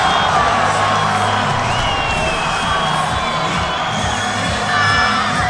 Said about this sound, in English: The crowd are absolutely loving it.